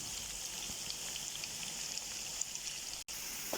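Chopped onions go into hot oil for a mixed vegetable handi and sizzle steadily in a continuous, even crackle with scattered pops and one brief break near the end. No voices are heard.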